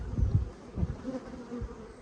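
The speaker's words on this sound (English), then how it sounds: "These bees over here seem to be nicer today than the ones at Slocum were." Honey bees buzz around the hives in a bee yard on a farm, a low, fluttering hum that swells and fades in soft pulses close by, with no voices.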